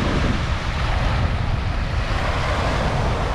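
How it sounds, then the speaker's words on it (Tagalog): Loud, steady roar of strong surf and gusting wind at Manila Bay buffeting the microphone, continuous with no pauses. "yung malakas ang alon, hangin"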